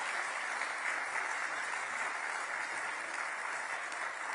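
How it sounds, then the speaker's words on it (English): Audience applause at a climate conference session, a steady dense wash of clapping hands from a crowd, even and sustained for several seconds without talk. "Sir, give it a applause."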